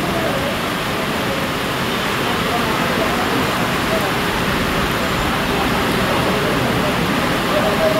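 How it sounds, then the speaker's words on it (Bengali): Heavy monsoon rain falls on a street in Cox's Bazar near the sea, a dense, loud, unbroken hiss that holds steady throughout with no break. "এত বৃষ্টি।"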